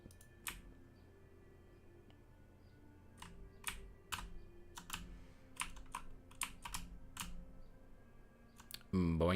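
Sharp, irregular keystrokes on a computer keyboard, sparse at first and then quicker, close and clear against a quiet hum, ending in a brief voice.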